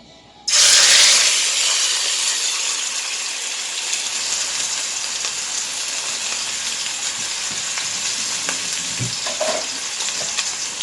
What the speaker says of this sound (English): I'm going to add our pork chop to the hot oil to smear it or give it some color.